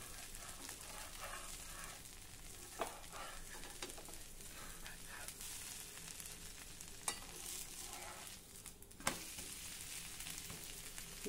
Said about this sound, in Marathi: आता खालच्या बाजूने देखील धिरडं मस्त भाजून घेऊ। थोडं थोडं तूप घाला।